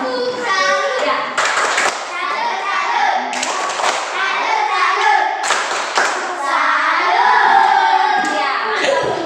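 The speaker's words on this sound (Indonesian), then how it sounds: "kita beri tepuk tangan untuk kelompok 1" Students in a classroom clap for a presenting group, with rhythmic bursts of hand clapping mixed with children's voices and shouts, plus some thumps, loud and close throughout.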